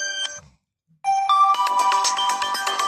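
Electric Dance ringtone playing on an Infinix Smart 10 phone: a brief tonal snippet, a pause, then a loud, dense electronic dance melody with steady beats and layered synth tones, no voices.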